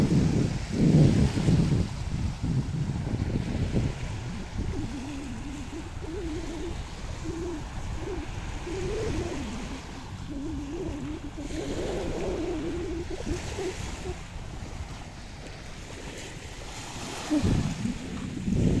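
Strong sea waves at a beach in late afternoon roll and wash steadily with a low, rough roar and gusting wind noise, loud and close, with no talk.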